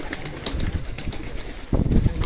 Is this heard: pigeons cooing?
yes